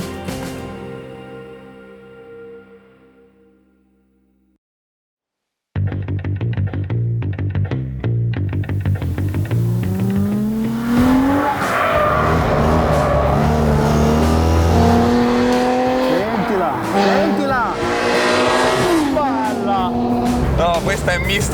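An Alfa Romeo GTV6 on a track straight: one pass fades into silence, then the engine returns loud and close, revving hard with rising pitch sweeps as it climbs through the gears and holding a sustained roar.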